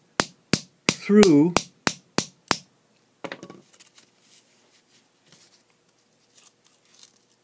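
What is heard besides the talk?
hammer tapping a shotgun shell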